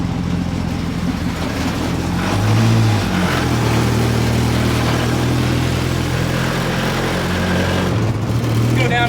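A Ford Pinto race car's engine drones loudly from inside the car while driving, a steady close rumble that shifts pitch as the revs change, briefly surging and dropping near the end.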